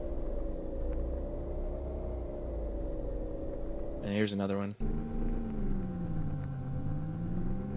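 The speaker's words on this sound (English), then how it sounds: "there's several different really odd engine sounds here" Broken machine engine sound effects play back as steady, droning mechanical hums with oscillating tones, cut midway by a brief harsh burst before a different wavering engine drone resumes, with a voice speaking briefly over it.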